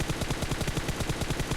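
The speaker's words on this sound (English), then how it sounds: "we do have some shots going off" Rapid automatic gunfire in PUBG Mobile, a dense steady stream of loud closely spaced shots filling the whole moment without pause.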